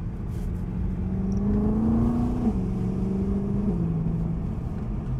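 A BMW M3's engine climbs steadily in pitch as it accelerates, then drops sharply at an upshift and climbs again before another shift, heard from inside the car as a continuous droning roar with no talking.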